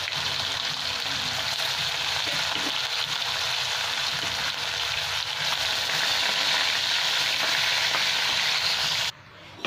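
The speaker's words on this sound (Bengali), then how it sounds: "তেলের মধ্যে মাছগুলো ভেজে নেব। মাছগুলো ভেজে নিচ্ছি।" Rohu fish pieces rubbed with salt and turmeric fry in hot oil, giving a loud, steady sizzle and crackle that runs nearly unbroken and drops off abruptly near the end.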